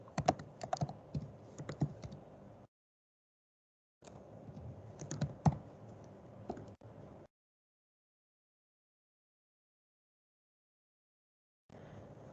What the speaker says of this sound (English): So I just go to protein and I'll just type here hemoglobin.